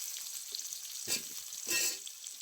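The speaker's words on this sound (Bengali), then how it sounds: "এবার আমি দিয়ে দিচ্ছি আগে থেকে কেটে ধুয়ে রাখা মূলো আর আলু" Cut radish and potato hit hot oil seasoned with green chillies, bursting into a bright, crackling sizzle close to the pan, with two louder surges as pieces drop in and are stirred.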